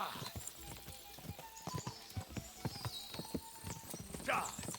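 Galloping horse in the video game Kingdom Come: Deliverance 2 makes a rapid, rhythmic clip-clop of hooves, close and clear, with a brief whinny-like sound near the end.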